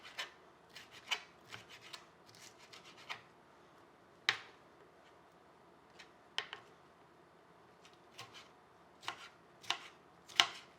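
A knife chops peppers on a cutting board in a home kitchen, giving a run of crisp, close knocks. The strokes come in irregular bursts, with a few sharper blade strikes standing out against a quiet background.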